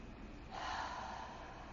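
A single big inhale during vinyasa yoga practice, a soft close breath drawn in sharply through the nose for about a second and then fading.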